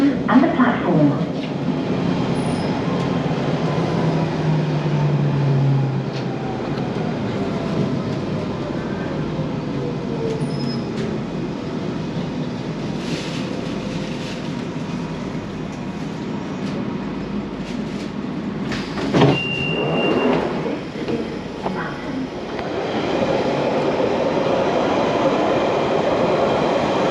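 A London Underground train on the Epping branch pulls into Loughton station, its steady rumble and rail noise filling the whole stretch with a rising whine, a brief screech, and a few voices over the top.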